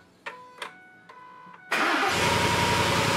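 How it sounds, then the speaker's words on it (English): A Ford F150 pickup with the 5.4L engine cranks briefly after a few faint clicks and chimes, then catches and settles into a steady, loud idle. "Now we can start the truck."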